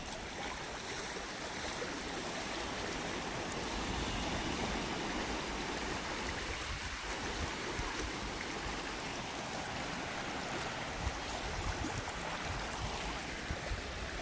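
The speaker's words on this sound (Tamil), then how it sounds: "அரிச்சிட்டு போயிட்டுருக்கு பார்த்தீங்களா தண்ணி" River water flows out into the sea on a beach in the Seychelles, a steady, soft rushing wash that continues evenly throughout, with no voices.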